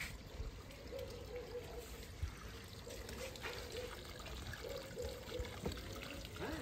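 Muddy, dirty water is drawn out of a water tank with a homemade suction rig, trickling and pouring in a faint, continuous flow with no talk over it.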